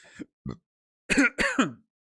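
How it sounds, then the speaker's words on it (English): A short burp followed by a couple of close, throaty coughs, separated by brief silences. "I just burped and coughed."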